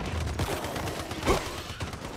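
Gunfire in the survival shooter game Once Human, a dense rattle of rapid shots with a louder burst midway, close and continuous throughout.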